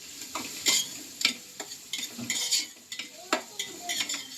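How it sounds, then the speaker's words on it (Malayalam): Onions for Kochi-style chicken biryani fried in oil in a metal pot and stirred with a utensil, giving repeated scraping clinks over a steady soft sizzle, close and moderately loud, with no talking. "നമുക്കിത് ഇളക്കി കൊടുക്കാം കേട്ടോ നല്ലോണം"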